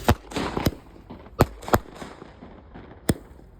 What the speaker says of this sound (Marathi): कार्यक्रमाची आताशबाजी होताना पाहायला मिळते मैदानामध्ये